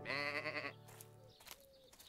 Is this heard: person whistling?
no